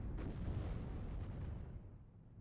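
Heavy 152mm artillery guns firing in the strategy game WARNO, a deep rumbling boom that rolls and slowly fades over a couple of seconds, distant and low, alone without talk.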